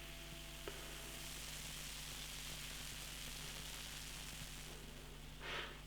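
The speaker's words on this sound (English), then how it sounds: "Very well carbonated beer." Well-carbonated Runaway Brewery ESB beer fizzing in a glass, a dense, steady crackling hiss held close to the microphone with no talk.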